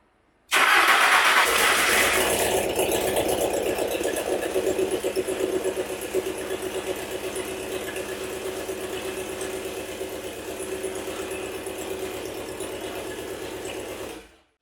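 A Ford 2.3 turbo engine, running for the first time in years, cranks and catches, then settles into a steady, slightly lumpy idle that carries on close and loud.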